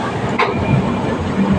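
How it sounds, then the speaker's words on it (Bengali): The Haldia SF Express pulls out of Govindpur station with a continuous low rumble of moving carriages and soft clickety-clack from the wheels, heard from inside the train. "গোবিন্দপুর থেকে ট্রেনটা ছেড়ে দিল"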